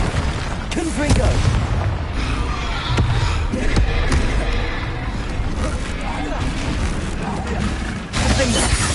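Spells are cast in combat in the Hogwarts Legacy video game, with repeated bursts, booms and impacts as a player talks over the action.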